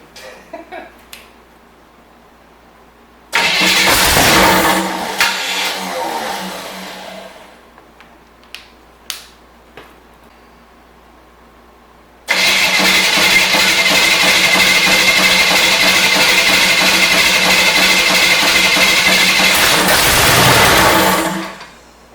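A junkyard engine for a 1972 Corvette, running on a garage floor, roars steadily for several seconds, then cuts out to quiet clinks, before firing up again and running hard at a constant, close-up level.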